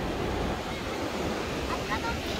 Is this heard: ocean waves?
yes